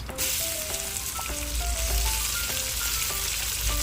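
Pork stir-frying with fried garlic in a hot pan for a Thai sweet and sour vegetable dish, a steady close, even sizzle over a gas stove with light stirring and no talking.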